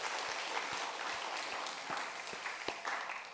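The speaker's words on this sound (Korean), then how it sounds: "하나님 앞에 영광의 박수 돌리겠습니다." A church congregation applauds during a Korean Sunday worship service, a dense, steady wash of clapping from many hands that holds at an even level throughout, with no talking over it.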